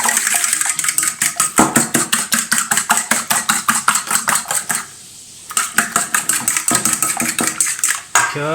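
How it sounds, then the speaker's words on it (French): Four eggs beaten with a fork in a bowl, a loud rapid rhythmic clatter of fork against the dish, briefly pausing midway then resuming at the same quick pace, close and without talk. "Donc je mets 4 œufs, je débat à la fourchette."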